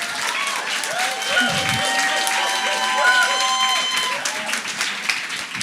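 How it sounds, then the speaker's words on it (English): An audience applauds Curtis and Carolee at a community land trust gathering, with sustained clapping from a crowd, some cheering, and voices talking over the applause. "Big round of applause for Curtis and Carolee."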